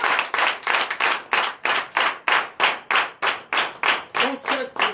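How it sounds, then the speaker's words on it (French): Rhythmic, steady unison clapping by a church congregation during a night deliverance service, loud and close, with a faint voice near the end. "Acclamation."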